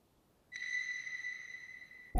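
A really high-pitched synthetic texture from a dark R&B beat made in FL Studio rings out as a steady, pure sustained tone with reverb, sounding alone after a moment of silence and ending in a sudden loud burst.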